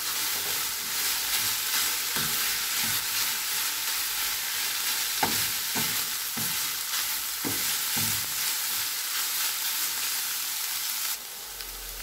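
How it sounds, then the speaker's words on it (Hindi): Minced meat fries with spices in a pan, a steady loud sizzle throughout, with a spoon scraping and stirring in several distinct knocks midway. "हम मसालों को अच्छे से कीमे में शामिल कर देंगे।"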